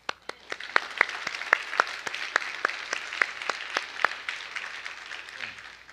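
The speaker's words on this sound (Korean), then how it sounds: "그리고 이 예배 시간을 통해서 우리의 기도에 응답하신 하나님께 감사의 박수를 드리기 원합니다." A church congregation claps in thanks during a worship service, a steady run of sharp, fairly close hand claps that gradually thickens into scattered applause.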